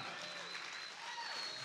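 An audience at a Bay Area leadership summit claps for a pastor and his team, a dense, even wash of applause that holds steady throughout, with a faint tone from the hall underneath.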